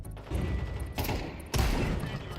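A burst of video game gunfire, several rapid shots and booming blasts in quick succession, loud and close, with a low rumble beneath.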